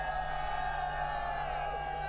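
Crowd noise in the arena at The International 2022 Dota 2 grand final, a steady dense roar of many voices cheering, loud and continuous throughout with an unbroken hum beneath.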